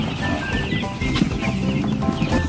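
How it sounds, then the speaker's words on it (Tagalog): Broiler chickens kept in a three-year-old farm cage cluck in a steady, dense chorus, with fowl calls overlapping continuously at close range and no talk. "Itong mga broiler po."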